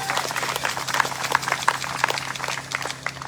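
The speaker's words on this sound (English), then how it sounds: "So give yourselves a round of applause for that." Audience applause at an honor ribbon ceremony for a charity honor ride, a crowd clapping steadily and fairly close with scattered sharper claps, no talking over it.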